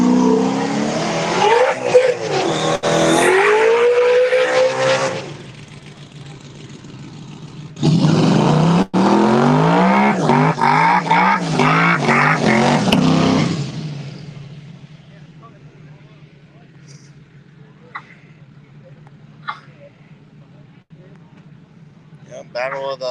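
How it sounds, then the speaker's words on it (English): A Ford GT500 and a Corvette ZR1 launch side by side at a no-prep drag race, with loud engine roars and tire squeal in two long bursts before fading to quiet, and people talking over parts of it. "battle of the two big names, big name cars, GT500, ZR1"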